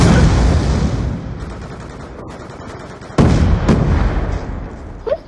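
Gunfire in a video game, loud bursts of shots and booms with a heavy opening barrage, a lull, then a second sharp burst and a small late spike, with no clear speech over it.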